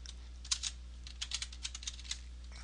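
Someone types on a computer keyboard, producing a brief, irregular run of soft, close key taps with small pauses over a faint steady background hum.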